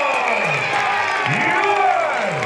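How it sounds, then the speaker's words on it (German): Crowd cheering at a nighttime knights' tournament in Königstein im Taunus, a dense, steady roar of voices from a large audience, with an announcer's voice faintly riding over it. "Jubel! Seid herzlich willkommen, Werther Siegmund von Ottenburg!"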